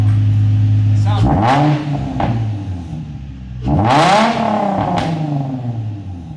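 A Nissan 350Z fitted with a new Y-pipe exhaust revs twice, each loud rise climbing and falling back toward a raspy idle, with voices talking around the revs.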